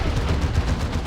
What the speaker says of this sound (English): Friendly fire there from a Plasma Cannon.